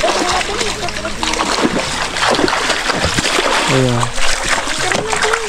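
People bathing in long-flooded water, splashing and sloshing amid talk and laughter, with water noise continuous throughout.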